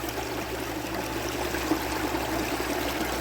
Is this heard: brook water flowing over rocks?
yes